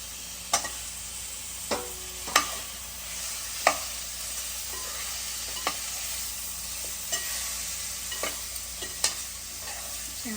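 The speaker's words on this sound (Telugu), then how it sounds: "చేపలు వేసేసి కొంచెం బాగా కలుపుకోవాలి." Fish pieces fry in a pan for an Andhra-style fish curry, a steady sizzle with about a dozen sharp spoon scrapes and taps spaced irregularly, close and moderately loud, no speech.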